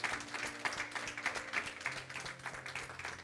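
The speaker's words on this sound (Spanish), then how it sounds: "Dale un aplauso al Señor." A church congregation claps together in irregular bursts at a Spanish-language service, a faint, moderately distant applause with scattered louder claps and a low sustained hum beneath.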